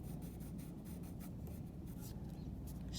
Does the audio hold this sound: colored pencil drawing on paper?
yes